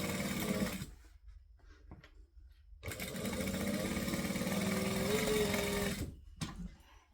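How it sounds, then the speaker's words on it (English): A sewing machine stitching around the edge of two fabric bag pieces, running in bursts of steady rapid whirring with brief pauses between, close and clear, one long run in the middle, no speech. "So I'm just going to go right around the edge and stitch the two together."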